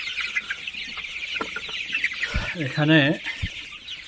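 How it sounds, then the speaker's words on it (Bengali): Clucking from a flock of about 500 young tiger chickens, 24 days old, in a farm shed. Dense overlapping clucks and chirps come from close by, with one louder drawn-out call, while a person says a word. "এগুলো টাইগার মুরগি।"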